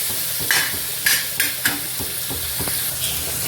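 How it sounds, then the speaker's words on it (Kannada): Paneer fries in hot oil in a pan while being stirred. A steady sizzle runs throughout, with several sharp scrapes and clinks from the spoon against the pan, close and fairly loud, with no talk. "ಪನ್ನೀರು ಈ ಕಡೆ ಬೇಯ್ತಾ ಇದೆ"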